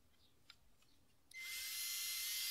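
A power driver on a flexible extension spins pocket screws into wood for a kitchen build, starting abruptly after a quiet lead-in and holding a steady, loud high-pitched whir to the end, with no talking.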